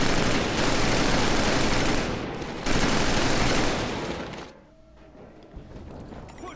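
Heavy covering gunfire in Killzone 3 during the Pyrrhus evacuation, dense rapid machine-gun bursts that roar continuously for several seconds before dropping away to quieter scattered noise.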